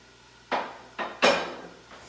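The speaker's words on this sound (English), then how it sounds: "I'm gonna put this stuff out of the way, go put it in the sink. Don't need a knife or this dish anymore." Knife and dish set down in a kitchen sink while breakfast is being cooked: a few separate clattering knocks, the third loudest, then a faint fourth, close by with no talk.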